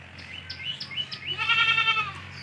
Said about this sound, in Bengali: বোর ছাগলের ক্রস এটা